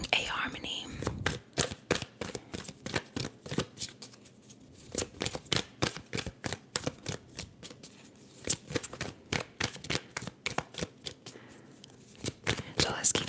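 Tarot cards shuffled close up in quick, crisp riffling bursts that run steadily throughout, with soft whispering faintly underneath.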